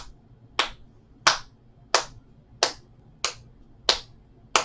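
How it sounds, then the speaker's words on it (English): Seven sharp hand claps at a slow, even pace, crisp and close, with quiet pauses between them. "clap those hands."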